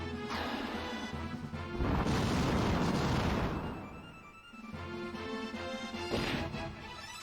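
A fire spell in Final Fantasy II strikes a large monster with a roaring, crackling blast that swells for a couple of seconds, then fades and flares again, loud and dense over a continuous game music bed.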